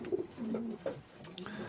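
A young racing pigeon, a cross from a white check Lebanon race pigeon and an F1 black hen, gives several short soft coos close by, with a brief faint chirp near the end and no talk.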